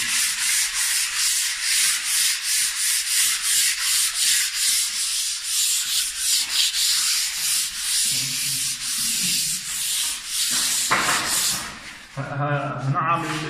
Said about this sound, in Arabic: هنعم الجنب كده صنفرة ناعمة خالص يعني 400